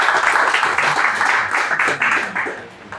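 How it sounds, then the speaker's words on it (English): An audience at a talk event applauds a guest, a dense burst of clapping that holds steady and then fades slightly toward the end. "Let's give him a round of applause, our guest for the day."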